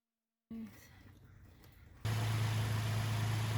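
A 2014 Toyota Tacoma engine, just back together after gas tank and knock sensor wiring harness repairs, starts up and settles into a loud, steady idle after a brief quiet lead-in and a short starter whir.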